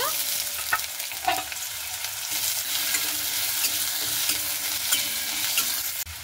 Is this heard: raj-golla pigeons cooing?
no